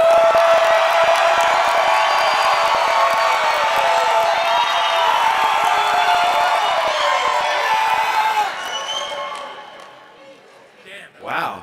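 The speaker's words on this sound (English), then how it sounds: "the one you like the most, you need to cheer for the loudest" A convention hall audience cheers loudly and steadily for a favourite option at a general session, a sustained roar of voices and whoops that fades out near the end.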